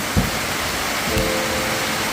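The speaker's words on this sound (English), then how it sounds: "it's pouring rain, so we have to wait" Heavy rain pours down steadily outdoors at a carport build site with bamboo, giving a dense continuous hiss with a couple of brief thumps, loud and close with no talking.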